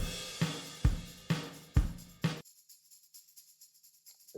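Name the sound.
tambourine playing faster in a GarageBand song chorus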